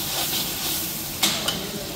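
A chicken karahi tadka sizzles loudly in the pan at a catering kitchen, a steady close frying hiss with two brief sharper spatters near the end.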